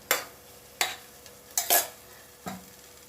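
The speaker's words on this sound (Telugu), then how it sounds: "ముక్కలు వేసాను కదా తిప్పుకుంటానండి" Spoon scraping through boiled cluster bean pieces and fried onions in a pan, four or five sharp scrapes and knocks spaced about a second apart over a quiet background, with no talking.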